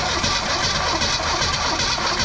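A 1971 Chevy C10 engine cranks over on its starter in a steady, loud, close rhythmic churn lasting a couple of seconds.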